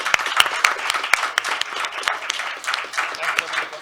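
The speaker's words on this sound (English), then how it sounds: "please join me in the applause thanking our panelists" Scattered applause from a conference audience thanking panelists at an EU enlargement discussion, sharp individual claps standing out over a thinner crowd clap, with some talk mixed in.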